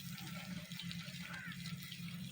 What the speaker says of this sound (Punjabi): ਗਾਰਡਨ ਨੂੰ ਵੀ ਪਾਣੀ ਲਾ ਦਿੱਤਾ ਹੈ